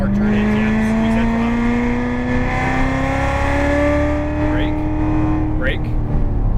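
A Corvette Z06 on a race track, its engine note climbing steadily under acceleration, loud and close from inside the car, with someone talking over the rising pitch.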